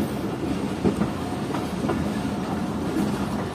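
The Jaffer Express passenger train runs on the rails in winter, a steady loud rumble of the car with rhythmic clickety-clack from the wheels passing rail joints, heard from on board with no voices.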